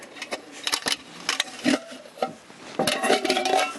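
Metal pots clink and clatter as a pot set is lowered into a cheap improvised camping stove, a series of close, sharp rattling knocks with brief pauses between.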